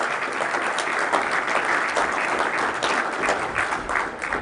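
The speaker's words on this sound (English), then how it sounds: "And a warm applause." A hall of delegates at a Philippine-German business forum gives sustained, even applause, dense clapping that holds steady for several seconds without voices on top.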